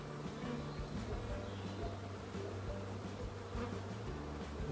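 Honeybees from a swarm recovered from a shrub buzz as a soft, steady, close drone that carries on through the whole stretch with no speech over it.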